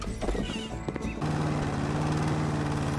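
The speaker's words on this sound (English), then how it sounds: "It's 3 a.m. We shouldn't be mowing." Lawn mower in the House Flipper video game, a loud steady engine drone starting abruptly after a second of clattering game noise, close and continuous.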